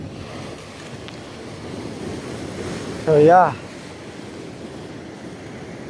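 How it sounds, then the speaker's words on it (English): Ocean waves wash against a dangerous rock at the shore in a steady, fairly loud surf rush with wind noise, and someone speaks briefly partway through. "you gotta keep on watching the waves."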